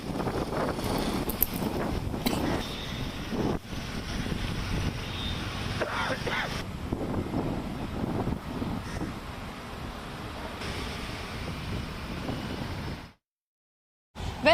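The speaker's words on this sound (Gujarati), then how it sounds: "ભારે પવન પણ ફૂંકાઈ રહ્યું છે" Strong early-morning wind in Ahmedabad, gusting around 40 km/h, roars as a steady broadband rush with heavy microphone buffeting before cutting out briefly near the end.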